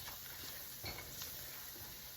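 Flour is stirred into onions frying in a pan for a bangers-and-mash pizza: a faint, steady sizzle under soft scraping and stirring strokes, with no voices.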